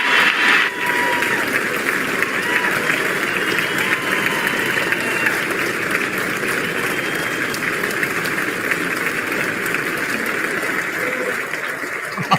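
Sustained, dense applause from a large audience greeting the president's entrance at the State of the Union address, a steady roar of clapping holding at full loudness throughout with no speech over it.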